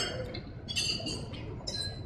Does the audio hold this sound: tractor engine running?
no